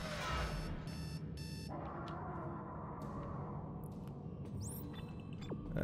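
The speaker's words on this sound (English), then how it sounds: "The alarm clock went off." An alarm clock in the video game Dead Space 2 goes off, a loud electronic beeping in rapid repeated bursts that gives way to a steadier tone, with eerie ambient game sounds around it.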